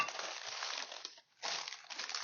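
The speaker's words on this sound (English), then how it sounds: "take a cup of some sort, drinking glass, and use that to smash it all down" Oreo cookie crumbs are pressed and smashed down with a drinking glass into a crust on parchment paper, a dry gritty crunching and crinkling that runs steadily, pauses briefly, then resumes.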